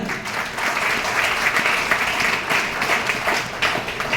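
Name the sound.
applause for the coach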